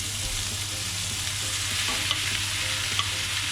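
Pieces of beef heart with herbs fry over a medium flame, a continuous close sizzle broken by scraping stirs in the pan and a couple of sharp clinks.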